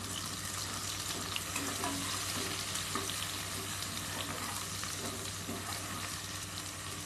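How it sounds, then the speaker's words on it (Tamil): A steady, close sizzle of small onions sautéing in a pan for dhal rice, with light stirring scrapes over an even background hum. "அதையும் ஆட் பண்ணிடலாம். நல்லா வதக்கி விடுங்க."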